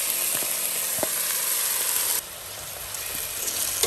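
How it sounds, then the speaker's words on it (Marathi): Rice roasting in hot oil for Kabuli pulao, giving a steady broadband sizzle that drops suddenly to a softer hiss partway through, with a few faint clinks from stirring and no talk. "मातशे भाजून घेवया रायस ते तेला वांगडा"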